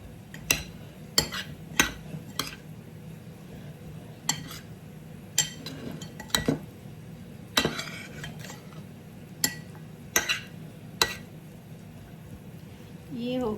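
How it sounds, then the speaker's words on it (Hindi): Utensils clatter and scrape through a salad as it's mixed in a bowl, sharp clinks coming at irregular intervals over a steady low background, close and moderately loud. "अब ये इसको मैं अच्छे से मिक्स करूंगी"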